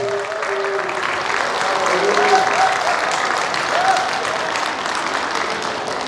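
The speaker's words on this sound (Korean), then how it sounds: "저 박수 좀 해주세요." An audience at a church prayer rally claps in a sustained round of applause, a dense, even patter of many hands. Voices can be heard mixed in underneath.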